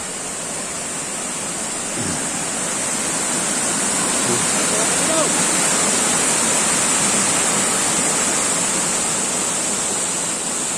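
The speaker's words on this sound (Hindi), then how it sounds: "ये है वाटरफॉल" Loud, constant roar of rushing water from Asurkhol Second Waterfall in Keonjhar, a dense unbroken hiss filling the whole clip with no pauses.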